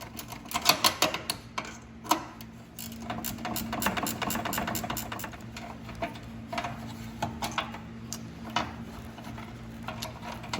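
A 10mm wrench works on sensor bolts in the engine bay of a Fiat 500 Abarth, giving quick ratcheting clicks and metallic taps in bursts over a low steady hum, fairly close and moderately quiet.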